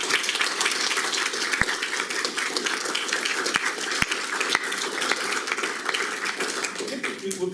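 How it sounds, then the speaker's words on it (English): Audience applausing at the close of a lecture on Greek plays and novels: a dense, continuous wash of clapping with a few sharper individual claps, sustained and fairly loud throughout. "We can have applause for her."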